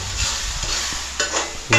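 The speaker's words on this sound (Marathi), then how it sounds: "आता ग्रेव्ही बघा किती फ्राय केली जाते" Chicken gravy fries in oil in a kadhai while a spoon stirs it, a steady loud sizzle with scraping strokes and a louder clatter at the end, heard close up with no talk.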